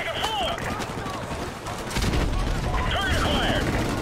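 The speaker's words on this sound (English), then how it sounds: "What are they even shooting at?" Continuous game gunfire from Call of Duty: Modern Warfare Remastered, a dense fusillade of shots with loud bursts throughout, growing heavier in the second half, with a voice talking over the firing at times.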